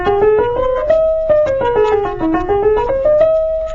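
Piano notes step up and back down through a major scale in an even melodic line over a sustained lower accompaniment, clear and close.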